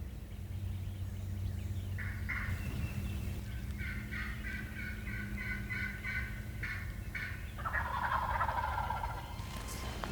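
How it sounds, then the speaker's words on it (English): Several wild turkey gobbles sound across the open during a turkey hunt, a rapid rattling burst repeated a few times at moderate distance, under 100 yards away, over steady outdoor background noise. "Their next gobble seemed to be less than 100 yards away and to our right"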